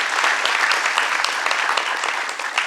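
An audience at a play applauds its musicians, including the sarangi player and percussionist, with dense, sustained clapping that fills the whole moment with no voices over it.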